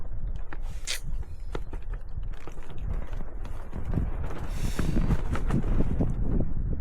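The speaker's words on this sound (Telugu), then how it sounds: "గాలి గాలి చూడండి ఎంత గట్టిగా వస్తుందో." Strong wind blows hard during rain on an empty rural road, a steady rushing roar buffeting the microphone with dull thumps and gusts that swell toward the end.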